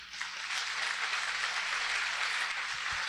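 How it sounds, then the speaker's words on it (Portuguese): A church congregation claps together in worship, a broad wash of many hands that swells quickly and holds steady, with a faint low hum running beneath. "Aplauda bem forte ao Senhor."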